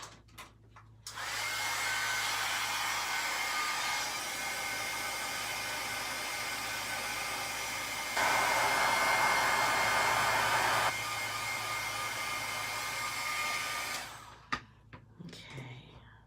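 A heat embossing tool blows hot air in a steady, fairly close whir for about thirteen seconds, briefly growing louder midway before switching off, with faint handling sounds at the end.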